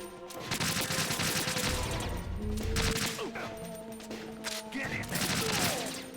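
AK rifle fire in Metal Gear Solid 2, bursts of rapid automatic shots in several volleys amid other game tones and effects, loud and close.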